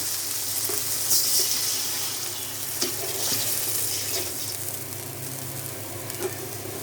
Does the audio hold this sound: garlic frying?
yes